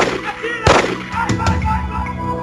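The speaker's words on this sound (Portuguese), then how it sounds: "Testemunhas ouvem 3 tiros." Gunshots ring out outside a motel, one sharp loud crack followed by two more shots about half a second apart. Speech and other noise carry on underneath.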